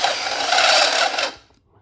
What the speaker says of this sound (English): take your countersink drill bit, and you're gonna want to countersink all 4 of these outer holes